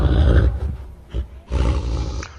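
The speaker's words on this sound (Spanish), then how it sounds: "Nos mostraba sus enormes dientes y lanzó un amenazante gruñido" Menacing wolf growl as a radio drama sound effect: a loud, close, rumbling snarl in two bursts separated by a short breath-like pause, with no talk.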